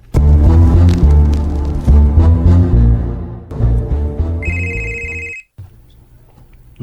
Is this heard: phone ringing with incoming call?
yes